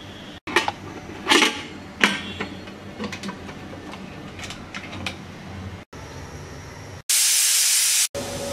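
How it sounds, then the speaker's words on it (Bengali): A pressure cooker on the stove with green moong dal inside, ticking and sputtering for several seconds before a loud, steady one-second burst of hissing steam from the whistle, close up with no talk. "আমাদের একটা সিটি চলে আসছে।"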